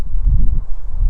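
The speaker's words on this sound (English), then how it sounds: "And windy as shit." Wind blowing outdoors at a Nevada state prison, a loud, rough, low rumble buffeting steadily with gusty surges and no voices.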